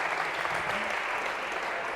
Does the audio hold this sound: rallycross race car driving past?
no